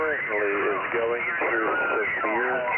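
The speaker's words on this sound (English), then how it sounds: "This person here, it sounds like he's got some acoustically coupled singing." Jammer on the 75-meter amateur band near 3860 kHz transmitting acoustically coupled singing: a continuous, band-limited, tinny voice with wavering sung pitch filling the channel, loud and unbroken.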